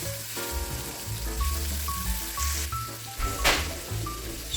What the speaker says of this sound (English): just added a little bit more oil to the wok. I'm adding the shrimp.